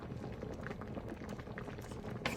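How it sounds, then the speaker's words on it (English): A pot of seafood okra soup bubbling at a steady boil, a dense low churning burble with soft pops, close and fairly quiet, no talking. "So right now let it boil for at least 2 minutes"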